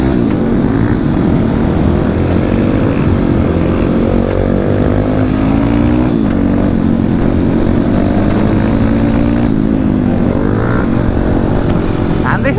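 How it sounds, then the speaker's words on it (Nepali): Dirt bikes ridden by a group of ten boys on a new dirt track roar close by in a dense, continuous engine drone, revs rising and falling as several machines overlap. "दसजना केटाहरू डट बाइकमा"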